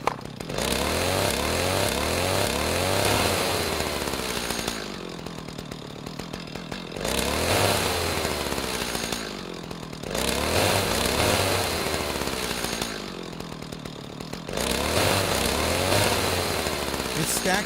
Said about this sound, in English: Chainsaw rev loop.